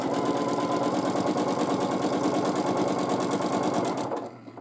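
A sewing machine stitches free-motion quilting in a fast, even mechanical chatter that runs steadily and close, then cuts off abruptly near the end.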